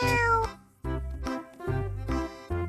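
A cartoon cat meows in an animated children's story, giving about four drawn-out meows in a row, loud and close with short pauses between them and no talking over them.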